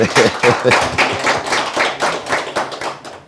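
Audience clapping for Kemal Ahmet at a gathering: rhythmic, loud, close hand claps in a fairly steady beat, with voices mixed in underneath.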